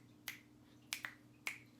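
Finger snaps tapping out a beat, four crisp, sharp clicks at uneven spacing in a quiet room, two of them in quick succession.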